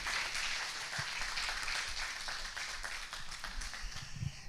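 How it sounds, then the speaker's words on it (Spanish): A church congregation applauds with dense, steady clapping that fills the room at moderate distance, holding evenly throughout. "Denle un aplauso a Dios por la vida de Cris."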